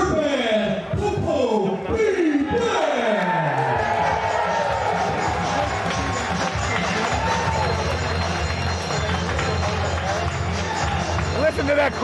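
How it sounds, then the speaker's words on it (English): A wrestling arena crowd cheers and roars continuously at full volume, with excited voices rising and falling throughout. "Listen to that crowd"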